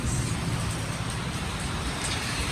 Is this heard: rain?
yes